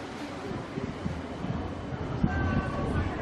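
Light-rail tram in Canberra's Gungahlin line arriving and crossing over at a station, a low rumbling rolling noise with some wind buffeting, heard outdoors at moderate distance.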